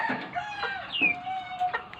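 Several chickens cluck and call close by in short, overlapping bursts, with a drawn-out squawk in the middle; no talking.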